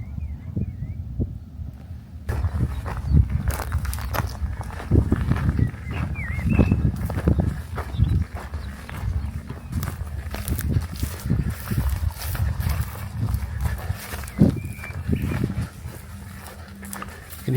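Distant dogs bark now and then amid a busy outdoor murmur of people in an industrial wilderness, with footsteps and rustling close by throughout.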